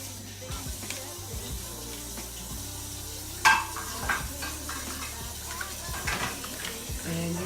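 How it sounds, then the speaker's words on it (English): Seasonings such as red pepper flakes, salt and thyme stirred together in a pan for a Cajun chicken and vegetable Alfredo, a soft scraping stir with a light sizzle underneath and one sharper clink partway through. "And you mix it all up."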